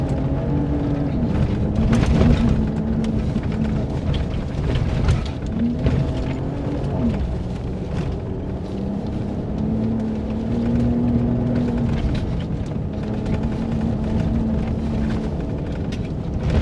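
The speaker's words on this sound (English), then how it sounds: "Plenty of wheel spin." A 2025 RAM 1500 RHO launching off-road in Baja mode with traction control off, its engine droning loudly and steadily with shifting tones as the tires spin, close and continuous with no voices.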